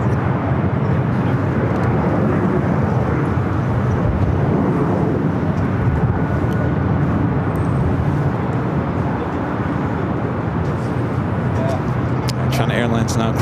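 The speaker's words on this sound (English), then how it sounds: "China Airlines now crossing over." A China Airlines jet crosses over at Los Angeles International Airport, giving off a loud, steady broadband engine roar that holds throughout. Someone talks over it.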